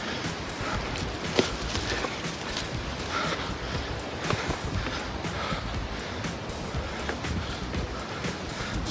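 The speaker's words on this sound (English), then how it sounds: "Getting up here to some waterfalls in front of us, or cascades it looks like." Cascading waterfalls along a hiking loop at Icehouse Reservoir, a steady broadband rush of falling water filling the scene at moderate level, with a few brief knocks from footsteps over rocks.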